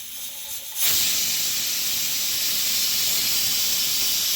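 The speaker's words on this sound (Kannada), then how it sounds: "ಎರಡನೇ ವಿಸಿಲ್ ಬಂತು." A pressure cooker whistle goes off after a short quiet stretch, releasing a loud, steady hiss of steam that stays continuous to the end, close by, with no speech.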